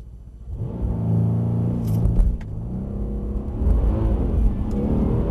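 Mercedes-AMG C63 at Mercedes-Benz World, its engine and exhaust rumbling deeply while driving, rising through a couple of throttle surges with a few sharp clicks, close and loud, no talking.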